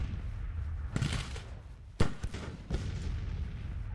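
Cannon fire in a Grand Tactician Civil War battle: a few deep booms over steady ambient noise, the loudest sharp report landing near the middle, with softer distant thuds before and after.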